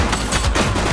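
Gunfire in the police video game The Precinct, a loud burst of rapid shots crackling in quick succession over about a second, with no talk.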